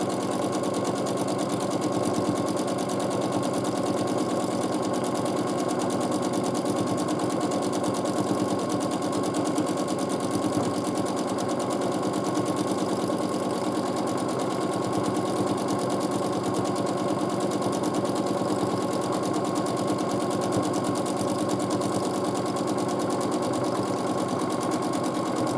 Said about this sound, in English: I can now go on with my free motion quilting and quilt some nice swirls.